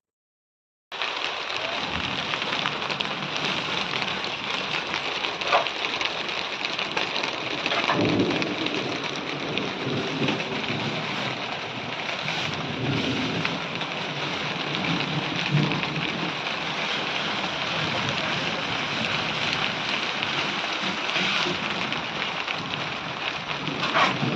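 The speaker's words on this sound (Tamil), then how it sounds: "லைட்டாக தூரலாக இல்லாமல் நல்லா பெருசாகவே மழை வந்துருச்சு" Heavy rain pours down steadily in a thunderstorm, a dense continuous roar from close by with low rumbles of thunder rolling underneath and no voices.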